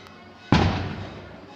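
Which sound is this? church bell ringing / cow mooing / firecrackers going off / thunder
firecrackers going off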